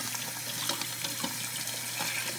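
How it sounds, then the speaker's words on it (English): Cold tap water runs steadily over a cooked egg in a sink, a continuous close hiss and splash with no talking. "just leave the cold water running on the cooked egg"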